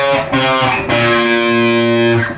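An electric guitar with heavy distortion plays a riff, loud and close, as a few chords strike in quick succession and then hold with a long ringing sustain.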